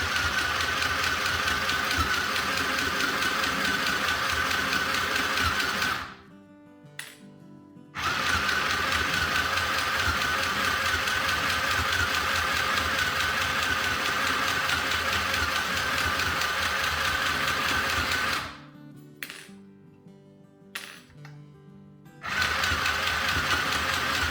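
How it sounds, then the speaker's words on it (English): Sewing machine stitching fabric for a burp cloth or drawstring bag, a steady close mechanical whir running continuously, stopping briefly twice as the presser foot is lifted and the material turned, then resuming. "put that foot arm back down, and continue sewing on this side."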